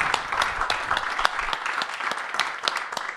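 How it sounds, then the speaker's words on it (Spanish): An audience at a book talk claps in a brisk, steady round of applause filling the whole short moment, with scattered individual claps standing out. "Así yo pido un aplauso para Bill y Tim."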